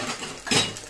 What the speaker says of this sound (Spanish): Ahora vamos a ponerle una tapaderita